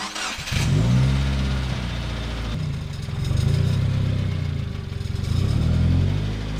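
A 2015 Subaru WRX engine revs and accelerates in steady surging pulls, loud and close, with a rough buzzing rattle running underneath the engine note.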